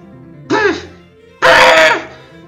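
A man coughs in the video game Ib: two loud, harsh, throaty coughs close together, the second longer and stronger, with no speech around them.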